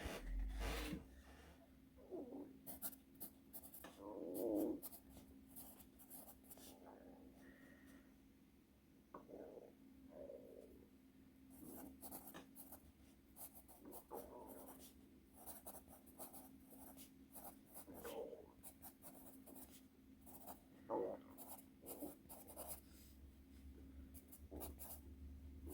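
Vintage cedar pencil scratching across paper in close, quiet strokes, irregular bursts of scribbling and scraping with brief pauses between, no voices.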